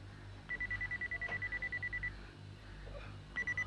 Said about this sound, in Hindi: मिस्टर रोबो, ये बीप बीप क्या है?